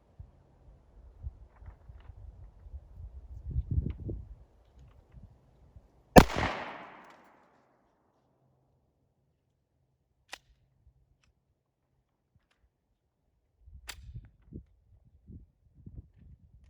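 A single sharp gunshot from a custom Glock G34 pistol cracks loudly and rings out, with a faint click later and handling noises before and after in otherwise quiet surroundings.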